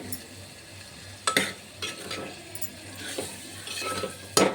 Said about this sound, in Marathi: आता एकत्रितपणे छान मिक्स करून घेणार आहे मसाले वगैरे